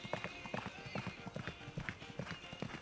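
A six-year-old horse's hooves clip-clop in a steady, brisk rhythm, close and continuous, while someone talks over it in Icelandic.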